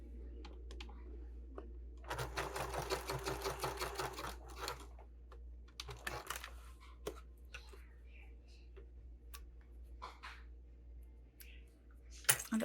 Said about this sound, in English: So just like when I basted this, I like to baste this just along the edge here.